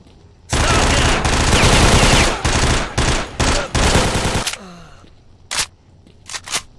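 Rapid automatic gunfire from S.T.A.L.K.E.R.: Shadow of Chernobyl rattles loud and close in sustained bursts with brief pauses, then gives way to a few isolated single shots.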